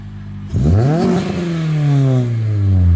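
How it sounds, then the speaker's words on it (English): A VTEC car fitted with a Yonaka catback exhaust starts a loud rev after a brief quiet moment, its engine note sweeping upward and holding a raspy, sustained roar close by, with no speech. "So the Yonaka is supposed to be a little bit of a quieter exhaust."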